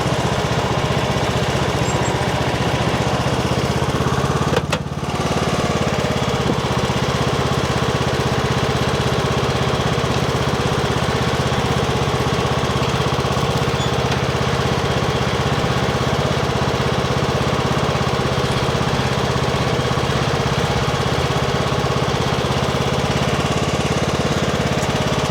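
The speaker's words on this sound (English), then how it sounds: "See if I can back this little tractor up for" A small engine runs steadily and loudly the whole time, a constant chugging drone with one brief knock early on.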